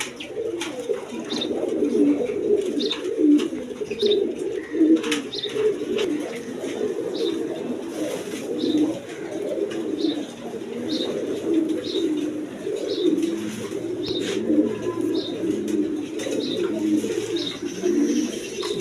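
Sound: caged pigeons cooing

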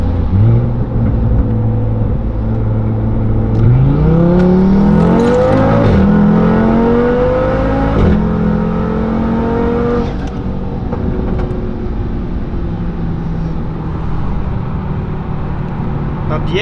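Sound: Audi TT RS engine revving and accelerating

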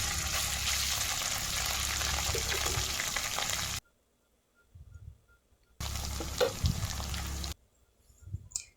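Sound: rice frying in a kadai

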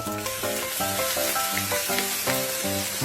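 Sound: rice stir-frying in a hot wok

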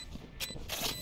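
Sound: weapon reload in the video game Valorant

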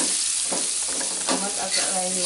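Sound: tomatoes being stirred and fried in chili spice paste

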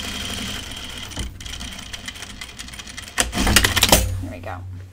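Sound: sewing machine double stitching a pants fly

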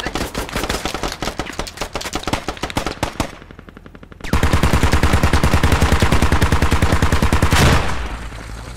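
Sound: gunfire in the video game Squad

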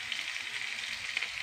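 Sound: curry leaves sizzling in hot oil

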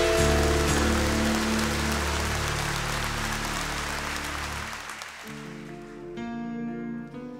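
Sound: theatre audience applause for the musicians

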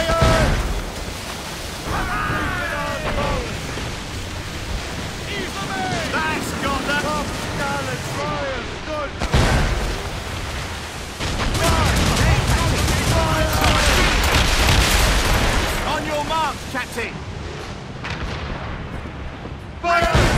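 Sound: naval cannon fire in the video game Assassin's Creed Rogue

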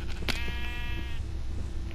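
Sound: sheep bleating in the video game Minecraft

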